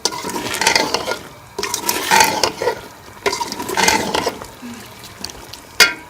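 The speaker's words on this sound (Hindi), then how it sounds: "ओजरी को मैंने मसाले में अच्छी तरह से भून लिया" Tripe (ojri) being fried in masala for a boti ka salan, with repeated bursts of stirring and scraping against the pot over a continuous sizzle, close and fairly loud, ending on a sharp clank.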